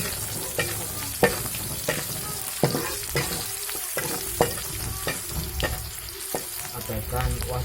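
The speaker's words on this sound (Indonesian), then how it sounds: "Kita tumis bawang merah, cabai merah, serai, daun salam." Shallots, red chilies, lemongrass and bay leaves sizzle and fry steadily in a pan while a spatula scrapes and taps against the metal at irregular intervals.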